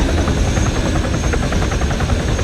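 Aircraft flying overhead during an outdoor public night event, a steady, loud broadband engine roar filling the whole clip with no speech.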